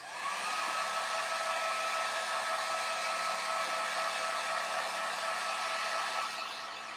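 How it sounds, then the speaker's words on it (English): A heat gun blows steadily to dry chalk paste on a craft stencil, a continuous loud whooshing roar held close for about seven seconds, with no one speaking. "then I'm going to take my heat gun"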